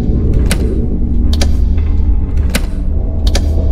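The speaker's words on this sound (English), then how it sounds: "And then these color switches sound like this for the 2013 settings." Color switches on a TARDIS console in Garry's Mod with the 2013 sound settings give several sharp clicks and clacks at irregular intervals over a steady, loud, low mechanical hum.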